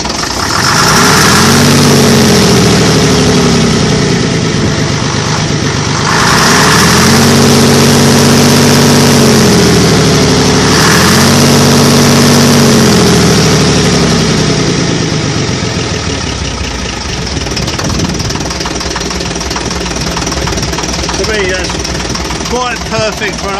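An old Routemaster bus's Leyland diesel engine revs up and down repeatedly in surges, loud and close, then settles back to a rough, steady idle.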